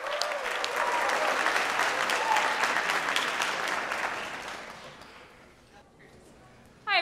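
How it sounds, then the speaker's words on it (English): A concert crowd applauds a high school jazz ensemble, the Medina High School Jazz Ensemble, a loud sustained wash of clapping that gradually fades out over several seconds, followed by a brief sharp noise near the end. "Everybody, round of applause"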